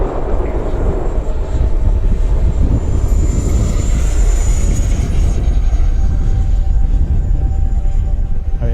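An RC model F-16 with an 80mm electric ducted-fan jet flies past, a loud continuous whooshing roar with a rising and falling whine, steady throughout with no voices.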